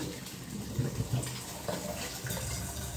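Tap water runs steadily while a kitchen sink is being cleaned, a close, continuous splashing wash with a few brief low bumps and clatters.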